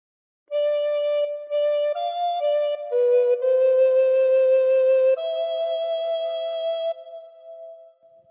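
A recorder plays the opening phrases of Silent Night, clear sustained breathy notes with short gaps between them, solo and close, ending with a held tone and no talking.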